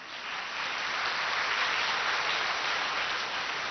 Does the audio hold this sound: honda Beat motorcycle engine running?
no